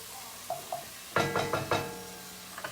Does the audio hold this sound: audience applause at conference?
no